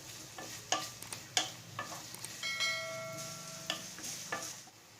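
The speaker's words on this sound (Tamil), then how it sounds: "இது நல்லா எண்ணெயிலேயே ஃப்ரை ஆகணும், கலர் மாறுற வரைக்கும்." Grated radish being stirred and fried in hot oil in a pan, with a soft continuous sizzle broken by sharp scraping clicks of a spoon against the pan, close and fairly quiet.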